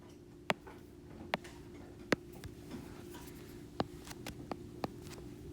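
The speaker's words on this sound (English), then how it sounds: "start by writing the definition" Pen writing a math definition on paper: faint scratching strokes with a handful of sharp taps and clicks scattered irregularly through a quiet room.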